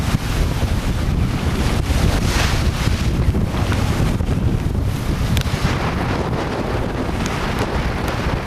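Steady broadband rush of wind and water as a sailboat runs under sail offshore on a passage from Oahu toward Bellingham, with constant wind buffeting the microphone and waves washing along the hull throughout, no voices.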